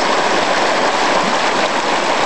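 The Ribeirãozinho waterfall on the Tocantins river near Imperatriz gives a loud, close, unbroken roar of rushing water with no pauses.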